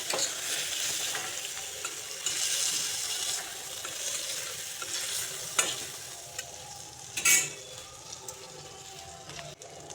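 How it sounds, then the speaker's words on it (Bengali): Fish balls frying in hot oil in a pan, a steady close sizzle throughout with a few sharp clinks and stirring sounds from the pan. "মাছের বড়িগুলো ভেজে নিচ্ছি।"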